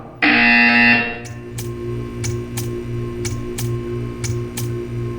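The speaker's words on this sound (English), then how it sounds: "You will hear a buzzer." A loud electronic buzzer from Portal 2 blares for about a second, followed by a steady mechanical ticking with an ongoing hum.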